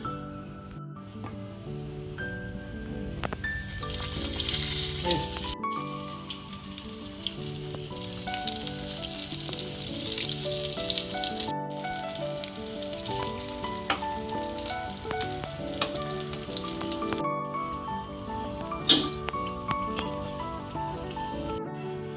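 Bajji fritters deep-frying in hot oil at home, a continuous crackling sizzle with bursts of bubbling as batter goes in, steady and close, with occasional light clinks.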